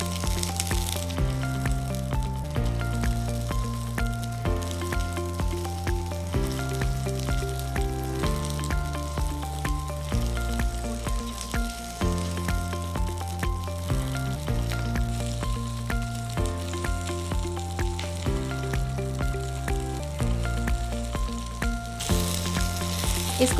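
Whole onions and red and green bell peppers are stir-fried in oil with a constant sizzle and occasional stirring rattles, partly masked by steady background music.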